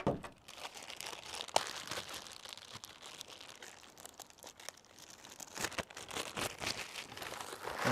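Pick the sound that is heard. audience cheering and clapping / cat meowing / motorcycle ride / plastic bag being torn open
plastic bag being torn open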